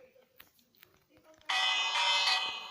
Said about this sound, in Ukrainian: Завжди люблю бити в дзвін